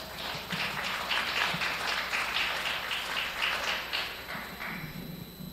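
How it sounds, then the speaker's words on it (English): A small audience claps at a junior goat show at a county fair, a light, fairly quiet patter of individual hand claps lasting several seconds and trailing off toward the end. "Let's give those kids a nice big round of applause."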